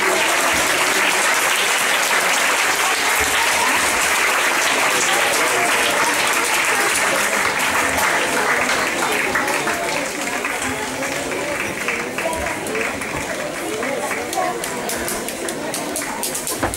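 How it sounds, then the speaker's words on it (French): Sustained applause from an audience after a ballet finale at a 2017 gala, a loud dense roar of clapping lasting well over fifteen seconds, with crowd voices and cheers mixed in throughout. "on peut les applaudir."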